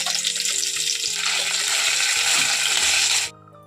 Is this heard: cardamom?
yes